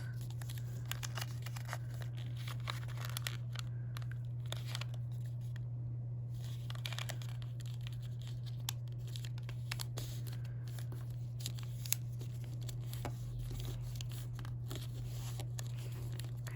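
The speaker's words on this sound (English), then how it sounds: "Fold the paper into thirds." Paper being folded into thirds for an origami box, with soft intermittent crinkles, creases and rustles close by, heard over a steady low electrical hum and with no talking.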